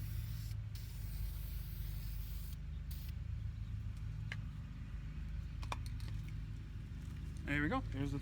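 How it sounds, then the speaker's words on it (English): Dupli Color spray paint hissed onto a rusty metal part for a third coat, a steady broadband spray held continuously under faint background noise and a few small clicks. "let's go ahead and spray a third coat here"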